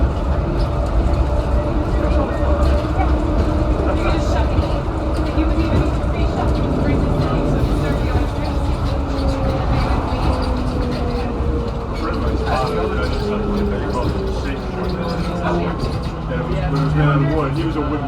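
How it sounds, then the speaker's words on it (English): ATL SkyTrain people mover at Hartsfield-Jackson Airport on its ride to the rental car center, a loud steady rolling rumble with rising and falling tonal whines from the drive, and voices and announcements heard over it throughout. "Please hold on, this train is departing."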